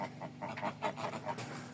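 Grey geese, an old gander with several young, give a string of short nasal honks and cackling calls in quick irregular succession, fairly close and moderately loud against a steady low background hum.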